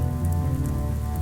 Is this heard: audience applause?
no